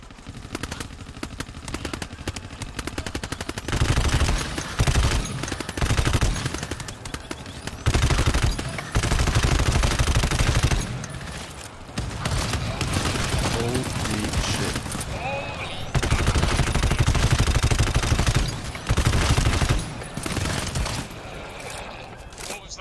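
Dense, continuous gunfire from automatic weapons in the co-op horror shooter GTFO, loud bursts and sustained volleys with brief pauses, mixed with talk over the shooting.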